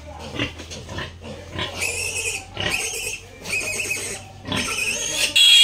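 Several pigs squeal and grunt in loud, repeated bursts on a farm during vaccination, shrill cries rising and falling close by over a low rumble.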